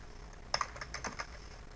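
Typing a password on a computer keyboard during a Linux Nagios setup: a short run of about eight light key taps in quick succession, close and soft against a quiet background, with no talk.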